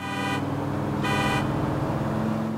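Car horn honking in the video game GTA IV, two sustained blasts about a second apart over a steady engine and road drone, no talking.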